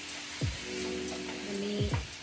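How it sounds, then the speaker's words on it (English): Meat sautés in a pan with a steady, faint frying sizzle, and a low hum runs beneath it. "Now, we're just sauteing"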